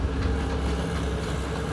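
A train rolls past near Haputale, a loud, steady rumbling wash of wheels and carriages that fills the whole moment without any talking.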